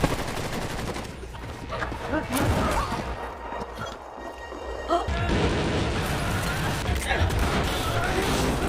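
Chaotic bursts of gunfire and loud crashes fill a dense action soundtrack, with muffled voices and thuds mixed throughout.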